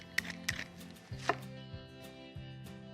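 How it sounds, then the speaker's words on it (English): A knife chops broccoli into small wedges on a cutting board, a handful of sharp, irregular knocks close by over a faint musical bed. "So I'm just kind of cutting these into little wedges"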